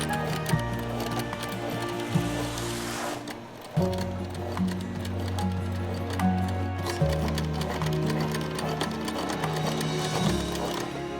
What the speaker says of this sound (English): Sewing all the way down until you get to this edge